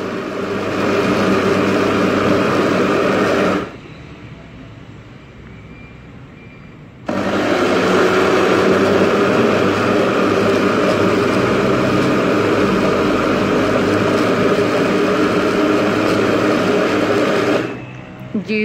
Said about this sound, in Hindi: दो मिनट तक हम ब्लेंडर चलाएंगे।